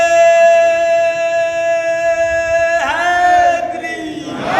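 A crowd at a Shia religious majlis in Amroha bursts into loud chanted slogans after a long, steady held voiced tone, the massed voices swelling toward the end.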